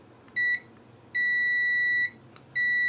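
Loud, piercing electronic beeps from a faulty Nintendo Switch in an uneven pattern: one short, one long, then another starting, each a pure high tone over faint background noise.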